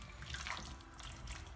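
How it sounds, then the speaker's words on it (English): Water poured into Kerala-style Malabar chicken curry masala in a pan, a soft continuous splashing and trickling that stays even and fairly quiet for a moment. "Add a little water so that it get the masala gets mixed well."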